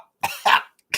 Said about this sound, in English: This stuff, all it does is make me fucking cough.